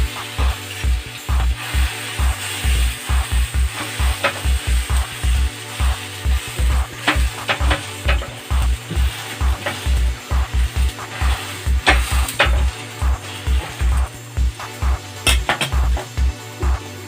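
Bread toasting in cream in a pan while being gently pressed down, a soft sizzle under a rapid, regular mechanical clicking beat with occasional utensil clinks, close and fairly loud.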